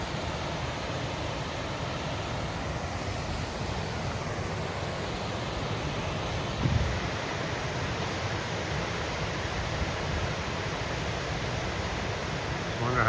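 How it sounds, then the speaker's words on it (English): The Great Falls on a river in Connecticut, a steady, broad roar of rushing water with a slight swell near the middle, continuous and fairly close, with no voices. "These are the Great Falls here."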